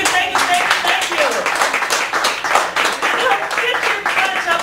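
Audience applause and clapping at a cabaret-style feature performance in a Chicago cafe gallery, a steady dense patter of many hands sustained throughout with voices mixed in.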